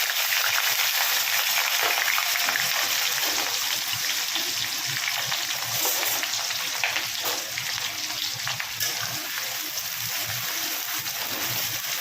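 Onions and green chillies frying in oil for a chicken curry, a steady dense sizzle and crackle that holds loud and even throughout with no talking.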